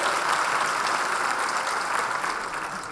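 An audience at a school's 80th anniversary ceremony applauds a professor with a dense, sustained round of clapping that fills the hall evenly and fades slightly toward the end.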